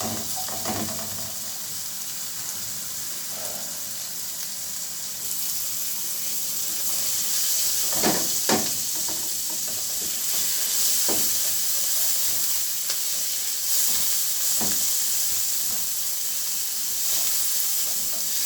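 Onion rings frying in a pot, a steady hiss and sizzle running throughout, with occasional clinks and scrapes from stirring and no talk.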